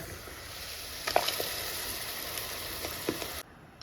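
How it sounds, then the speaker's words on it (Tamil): Ground paste is poured into a simmering jackfruit seed curry, a soft sizzling bubble with a few wet splats and plops, fairly quiet and close, that cuts off sharply near the end; no one speaks. "இந்த பேஸ்ட் எடுத்து அதில் ஊற்றிட வேண்டியதுதான்"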